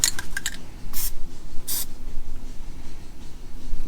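Two short hissing bursts from an aerosol can spraying black paint, close and loud, separated by a pause, over faint background noise.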